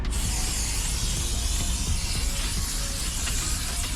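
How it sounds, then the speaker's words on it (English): A steady, continuous aerosol spray of brake cleaner onto a 2010 Toyota Camry brake rotor, hissing close by for several seconds, broadband and even, with faint mechanical rattles beneath. "Let's just spray it a little bit."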